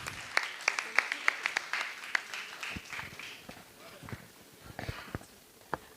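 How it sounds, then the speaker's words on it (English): Audience applause at a film festival celebrating diversity and inclusion, scattered claps popping irregularly and fairly faint in a roomy hall, thinning out toward the end. "So big round of applause for Beacon of Light."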